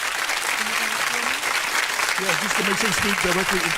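A studio audience applauds a radio show guest, a steady broad patter of clapping across the whole stretch while people talk over it.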